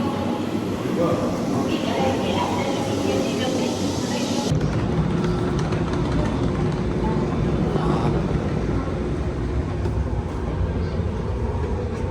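Rumbling ride aboard a train bound for Jinju station in Korea, a steady broadband roar of wheels and carriage that shifts character partway through and continues throughout, with no clear talk.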